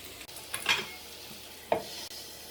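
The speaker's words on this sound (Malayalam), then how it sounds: "ഇത് നന്നായിട്ടൊന്ന് വഴറ്റിയെടുക്കണം" Chicken pieces sautéing for chicken upma, a spatula scraping and clinking twice against the pan over a quiet, steady sizzle, close up with no talking.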